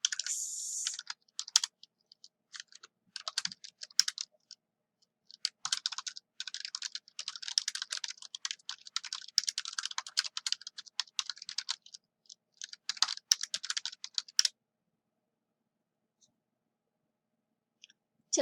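Typing on a computer keyboard while entering data into spreadsheet cells, close rapid bursts of key clicks with brief pauses, then stopping for the last few seconds.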